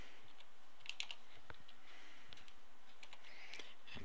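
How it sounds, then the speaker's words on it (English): Someone types on a computer keyboard, a quiet run of light, uneven key clicks and taps close to the mic. "So when they get here, they will type in Tim"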